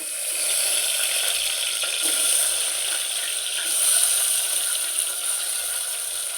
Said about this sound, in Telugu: ఆయిల్ పోసుకోవాలి టమాటాలు వేసుకోవాలి